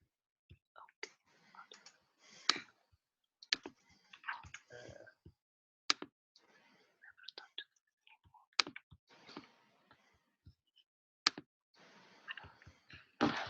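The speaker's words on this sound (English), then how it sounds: "there was somebody typing" Someone typing on a computer keyboard during a Zoom call, with bursts of irregular clicking keystrokes separated by short pauses, fairly close and clear, with faint breathy sounds between bursts.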